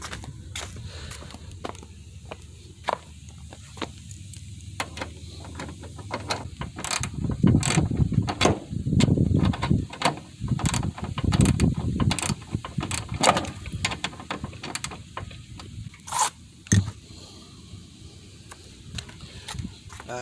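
A ratchet works screws loose from the rear bumper cover of a 2012-2014 Scion tC in quick bursts of clicking and clattering. Irregular metallic ticks and handling knocks come up close over a low background hum, with no speech.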